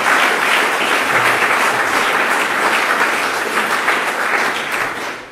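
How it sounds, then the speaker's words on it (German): An audience at a campaign review gathering breaks into sustained, dense applause that holds steady for several seconds before tapering slightly at the end. "Bitte mal Applaus zu den 60 Ratversammlungen"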